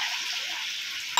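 Ground clove chutney is poured into a pan with onions and sizzles. It is a brief, steady frying hiss with no voices, ending in a sharp splatter.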